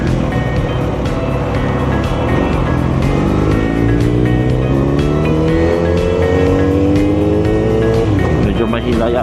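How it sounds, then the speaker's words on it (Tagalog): Cars move through road traffic with engine rumble and rising and falling tones of passing vehicles, loud and continuous throughout, with people talking over it. "Traffic? Ito ang problema."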